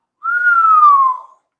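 A single whistled note from a person, clean and clear, sliding slowly downward in pitch over about a second before stopping.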